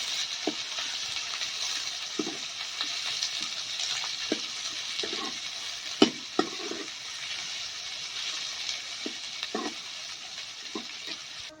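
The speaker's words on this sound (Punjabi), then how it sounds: "ਪਿਆਜ਼ਾਂ ਨੂੰ ਆਪਾਂ ਚੰਗੀ ਤਰ੍ਹਾਂ ਭੁੰਨ ਲਾਂਗੇ" Onions frying in oil with cumin and spices in a pan for chana masala, giving a steady close hiss with scattered soft clicks and scrapes of stirring, no voices.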